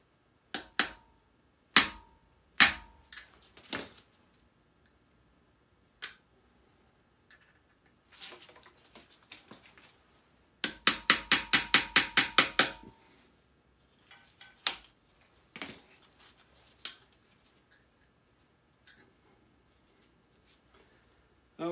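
Scattered sharp metallic taps and knocks, then a quick rapid burst of hammering blows, followed by a few more isolated strikes, chiseling out an old transmission seal on a 1988 Dodge Raider in a quiet workshop.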